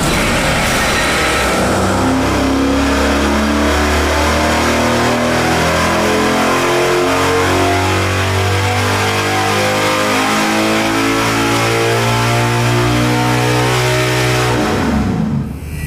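A 5.7 Hemi V8 on a dyno, loud and close, revving up through a long sustained pull with rising, steady engine tone, then dropping off abruptly at the end.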